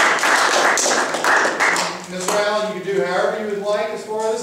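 A round of applause greets a guest speaker: dense, steady clapping from an audience fills the first couple of seconds, then fades as a voice starts talking over the tail end.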